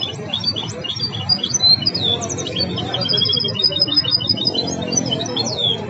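A hybrid songbird sings a busy, continuous run of rapid, high, twittering phrases and trills close by, over a steady murmur of background noise.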